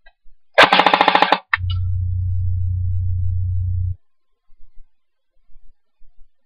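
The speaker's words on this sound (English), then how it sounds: "It's got an extremely high rate of fire" A JG Tactical AK47 airsoft gun fires a quick burst of rapid shots up close, followed by a steady low electric hum for a couple of seconds, then a few faint clicks.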